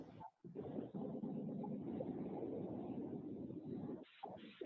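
Loud, steady exhaust roar of an Acura NSX sports car, a dense low rumble sustained for several seconds with brief dips near the start and end.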